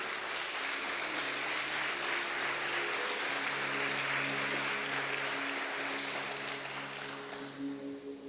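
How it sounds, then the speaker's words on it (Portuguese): A church congregation applauds during a worship service, a dense continuous wash of clapping held steady for several seconds over a low sustained organ or keyboard drone, fading slightly at the end. "Aqueles que podem, aplaudam ao Senhor Jesus"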